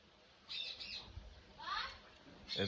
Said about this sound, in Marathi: हे आवाज वगैरे पक्ष्यांचे आपल्याला ऐकायलाच मिळत नाही